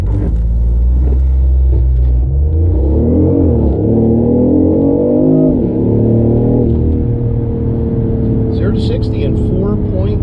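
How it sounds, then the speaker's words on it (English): Tuned BMW i8 at 358 hp and 455 lb-ft launching hard from 0 to 60, a loud close engine roar with rising pitch through gear changes, then settling into a steadier drone as a voice speaks over it. "Okay, first launch, here goes."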